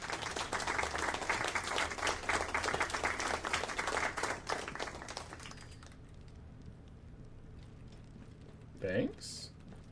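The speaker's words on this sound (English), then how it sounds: "I'm not sure what I did for an applause" A burst of clapping plays as a sound effect during an Assassin's Creed Origins live stream, dense applause for about five seconds that fades out, followed by quieter background and a short tonal chime.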